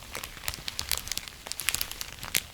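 Large gallon Ziploc plastic bag filled with golden Thai rice crinkling close up in a steady run of sharp, dense crackles and rustles, no voice.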